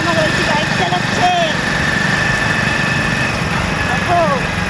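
A motorbike engine runs steadily nearby, a loud continuous buzzing drone. Rising and falling whistle-like tones and some background voices sound over it.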